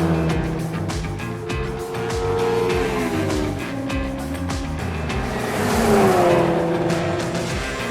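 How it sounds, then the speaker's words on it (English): Race cars sweep past on the Silverstone circuit during a track day. Loud, sustained engine notes rise and fall in pitch as each car passes, overlapping one another in close succession. "All the cars going past. Track action."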